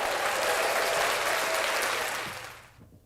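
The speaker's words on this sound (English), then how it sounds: "He gave himself a round of applause." A canned applause effect plays on a morning radio show, a full crowd clapping loudly that fades out and stops near the end.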